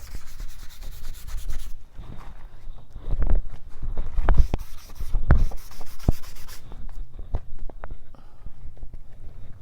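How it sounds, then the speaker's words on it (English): A cut-off two-inch brush drags matte medium back and forth over painted lines, giving repeated close scratchy rubbing strokes in uneven bursts. "take a little matte medium on my cut-off 2-inch brush and just kind of go back and forth over these lines a little bit"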